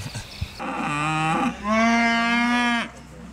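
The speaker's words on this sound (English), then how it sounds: "Cows like good music too." Two long, loud cow moos in a row, deep and droning, the second one stronger and held longer, with no voices.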